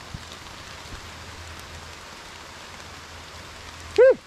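Rain falling on a camera outdoors, a steady close hiss of drops spattering the lens and body throughout, with a brief sharp animal call near the end.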